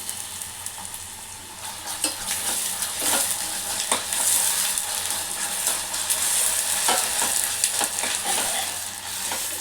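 Ginger frying in oil in a pan for bitter gourd curry gives a steady, close, bright sizzle with occasional soft crackles and scrapes, no talking.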